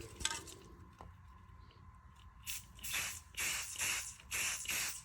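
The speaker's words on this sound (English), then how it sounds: "I just take all 60 of them, I bind them up with tape, and then I just hit it with the spray paint" Several short bursts of aerosol spray paint hiss close by onto a taped bundle of HO model railroad ties, each a second or so long, separated by brief pauses, with no talking.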